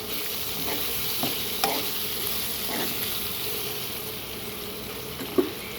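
Tomatoes frying in a pan are stirred, giving a steady close sizzle with soft scrapes and light clicks of the spoon against the pan, one sharper tap near the end, and no speech.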